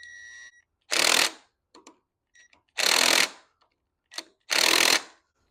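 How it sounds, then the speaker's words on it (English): A small impact wrench tightens the flywheel nut on a neglected 1971 Honda CT70H engine, firing three short, loud, close rattling bursts separated by pauses and faint clinks. "with this little impact, actually, I usually just hammer these down with this"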